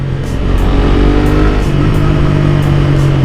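A Suzuki GSX R150 motorcycle engine drones loud and close while being ridden, holding a steady, continuous tone mixed with wind rush, with no talking.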